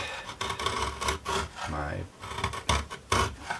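Repeated rasping strokes of a tool scalloping a wooden guitar top brace, close and fairly loud, in an uneven back-and-forth rhythm with brief pauses.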